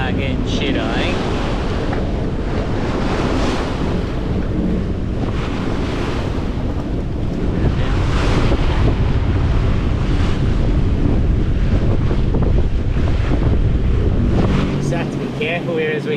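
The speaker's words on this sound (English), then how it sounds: "these waves are peaking up pretty far out and they're cresting on their way in" Ocean waves and swell surge around a sailing boat under strong wind, a constant loud rushing with heavy wind buffeting the microphone and breaking surf throughout.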